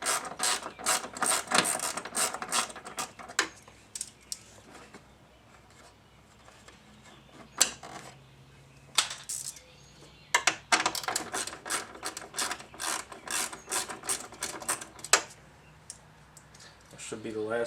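A ratchet removes the dashboard screws on a 1994 GMC Suburban, sounding as repeated bursts of quick metallic clicking, close and clear, with pauses between sets of turns and occasional soft knocks.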